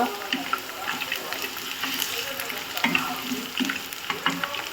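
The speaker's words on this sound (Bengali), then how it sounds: "আলুটা একটু হালকা ভেজে নেব" Potatoes lightly frying in a pan with steady sizzling and occasional stirring clatter, close and fairly quiet, with faint household sounds behind.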